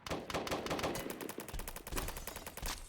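Rapid automatic gunfire in the video game BRM5, loud and nearly continuous bursts of close shots with brief gaps, no voices.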